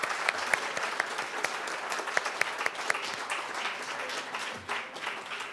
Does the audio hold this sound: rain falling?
no